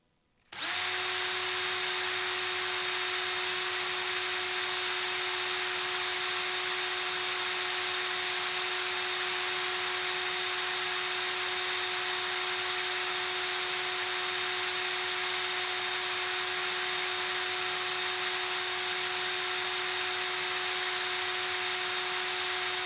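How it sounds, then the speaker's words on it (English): A power drill runs with a Starrett No. 104 speed indicator held to it, giving a steady, unbroken high whine with a constant pitch that holds for over twenty seconds. "Let's put it on the drill and see what kind of readings we can get with it."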